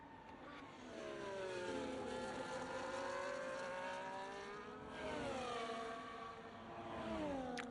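Race car engine in a sim racing game during an ERL Austria championship round, revving steadily with rising and falling pitch sweeps through gear changes on a flying lap, loud and continuous with no talk.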